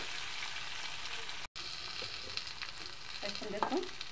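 Potatoes dusted with turmeric sizzle steadily in a pan, a continuous close hiss with a brief dropout, then a few scraping stirs near the end.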